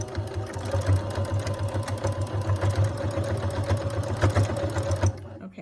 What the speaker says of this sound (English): I'm gonna sew in reverse. So I'm gonna kind of reinforce this stitch several times